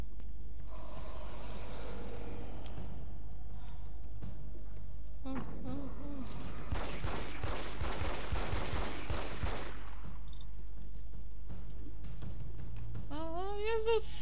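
Rapid bursts of 9 mm pistol gunfire in the game Alan Wake's American Nightmare, a dense cluster of sharp shots in the middle amid game noise and distorted effects, with someone talking around it.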